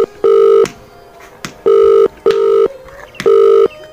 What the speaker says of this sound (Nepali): अरे फोन की घंटी तो जाता